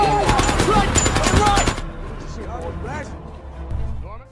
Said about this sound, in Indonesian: Melihat serangan itu, Don langsung menembak anak tersebut